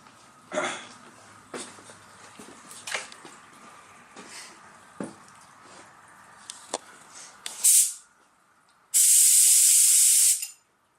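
An activator spray gun (1.8 Gunza) fires activator for hydrographics onto white ABS plastic: quiet handling noises, then a short sharp hissing burst and, after a pause, a longer, loud, steady spray lasting about a second and a half.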